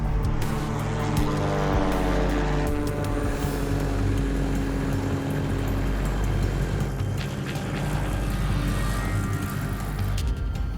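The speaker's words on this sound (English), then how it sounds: "The engine sounds good though so far." A light aircraft engine runs steadily before a test flight. The close, loud droning roar holds constant throughout with a buzzing, propeller-like texture, and no one speaks.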